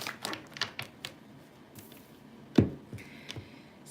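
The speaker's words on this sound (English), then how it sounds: "One more shuffle." Tarot cards shuffled by hand, a scattered run of soft taps, flicks and riffles at uneven intervals, close and quiet, with one sharper slap partway through.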